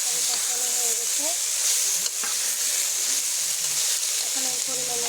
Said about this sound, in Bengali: তরকারি আমি আবারও ভালো করে নেড়ে দিলাম